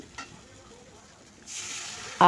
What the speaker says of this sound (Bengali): সবজিগুলোকে খুব ভালো করে নাড়াচাড়া করে নিচ্ছি